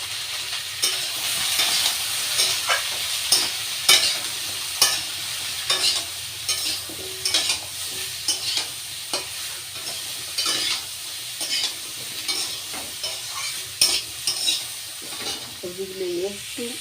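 Vegetables and soybean chunks seasoned with turmeric and salt sizzle steadily in a pan, with repeated close scraping strokes of a spoon stirring them.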